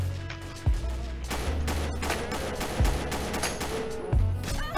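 Rapid bursts of gunfire from the video game Combat Arms Reloaded crackle continuously, loud and dense, punctuated by a few heavier deep booms, with no voices over it.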